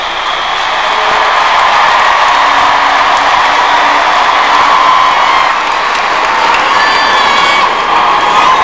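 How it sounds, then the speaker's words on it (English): Vancouver Canucks hockey fans in an arena on a 1994 fan appreciation day, loudly clapping, cheering and whooping for themselves in a continuous, dense crowd roar. "I want you to clap for yourselves."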